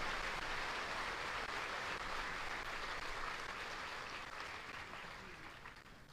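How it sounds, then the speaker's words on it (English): Audience applause at a Fort Jackson Army graduation ceremony honoring retirees and their families, a dense, sustained crowd clapping that gradually fades toward the end. "Please join me in a round of applause for our retiree and their families."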